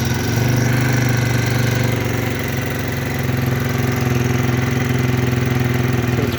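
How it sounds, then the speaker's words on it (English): Xpro Falcon 250 EFI motorcycle engine running at a steady, loud idle close by, a continuous even thrum with a fast regular pulse and no talking. "when you turn this on, you'll hear the electric fuel injection"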